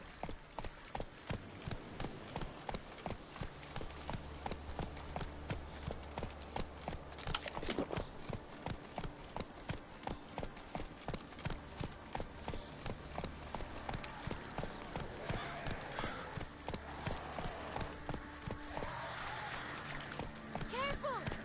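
Roach the horse galloping in The Witcher, a fast, even clatter of hoofbeats running throughout, close and prominent over game music, with voices speaking at times.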